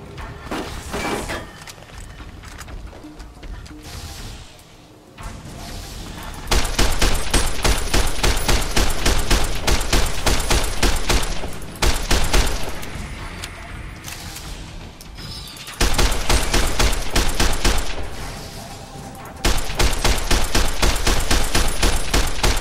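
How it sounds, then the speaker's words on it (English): A service rifle fires in the Fallout: New Vegas video game as long bursts of loud, rapid shots, close and harsh, broken by short pauses with quieter mechanical and ambient game sounds between them. "let's take the service rifle out"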